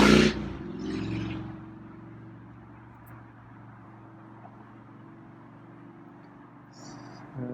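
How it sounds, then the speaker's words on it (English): A loud car passes close on a street, its engine roar swelling at the start and then fading into a low, steady rumble. "That was a loud car."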